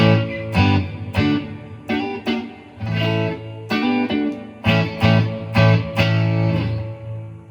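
Electric guitar on the neck pickup through a Vibrolux tube amp, warm and rounded, strummed chords and picked notes ringing in a steady rhythm, close and clear with no voices.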